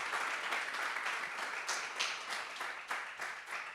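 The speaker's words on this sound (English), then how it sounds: "maybe like a small applause for all the very, very cool stuff that everyone has been doing over the past year" A small conference audience in Berlin claps politely, with soft scattered handclaps that stay fairly faint and even before tapering off.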